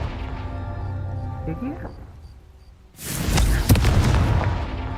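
A Confringo blasting spell cast in Hogwarts Legacy: after a stretch of droning game sound, a sudden loud, booming burst of fiery crackle that stays dense and rumbling, with a voice speaking briefly near the start.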